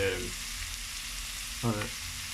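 Bacon frying in a pan for spaghetti bolognese: a steady, close, loud sizzling hiss that runs unbroken, with a brief faint stir or scrape near the end.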